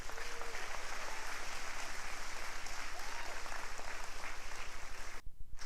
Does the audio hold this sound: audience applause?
yes